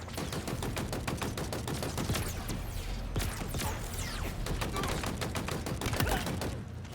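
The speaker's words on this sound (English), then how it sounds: "In a hail of gunfire." Rapid, dense gunfire from Halo Infinite multiplayer with bots. Bursts of automatic weapon shots crack continuously without letting up, loud and close, with brief sharper impacts mixed in.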